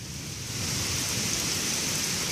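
Heavy rain pouring steadily outside during a drive, a dense, constant roar of drops with no pauses.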